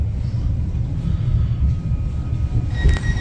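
A Merseyrail train rumbles along in a low, steady roar, with faint metallic squeals rising briefly near the end.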